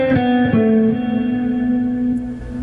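An electric guitar plays a 16th-note exercise, a loud, sustained, effected tone with reverb and a few quick note changes near the start, no talking.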